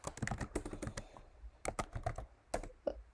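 Computer keyboard typing as code is entered, with quick bursts of clustered keystrokes, brief pauses, and another flurry of taps, close and fairly quiet with no voices.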